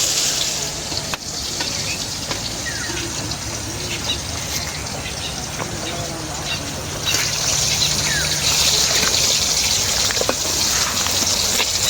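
Fish frying in a pan of oil, a steady broadband sizzle running continuously and growing slightly louder toward the end, with faint clatter in the background and no talk.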